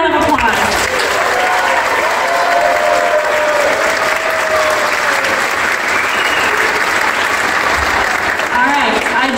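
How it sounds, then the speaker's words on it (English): An audience at an elementary school Christmas program gives a loud, sustained round of applause, dense clapping that holds steady throughout with some cheering mixed in. "Give him another round of applause."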